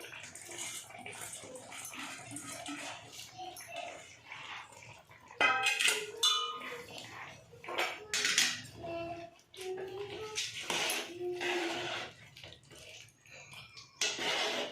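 Basmati rice being added into a cooking pot for biryani, with scattered rattling and clinks of grains and utensils against metal, some watery sloshing, and soft background noise, fairly quiet overall.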